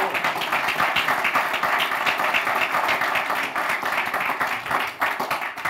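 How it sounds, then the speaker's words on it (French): An audience at a conference opening breaks into applause, a broad continuous wash of many people clapping that holds steady and loud throughout. "le président du MEDEF, Patrick Martin, que je vous demande d'applaudir."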